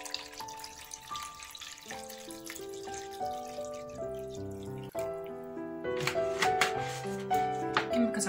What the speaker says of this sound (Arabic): بالنسبة للماء أنا هنا غادي نستعمل لتر ديال الماء.